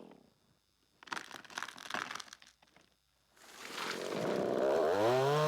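A sawmill blade bites into the crooked bottom end of a log with a hollow centre, starting with rough bursts of cutting, pausing, then building into a loud sustained whining cut.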